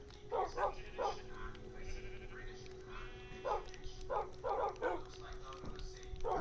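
Repeated Minecraft sheep bleats, several in quick bursts, over a steady electronic hum and game background sounds; a voice talks intermittently underneath.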